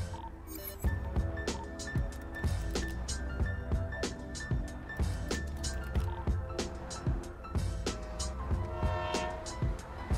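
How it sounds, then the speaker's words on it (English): Train horn in the GTA 5 roleplay game, a loud sustained horn tone holding across the clip over rumbling rail noise, clanks and sharp metallic knocks. "Train horn it is"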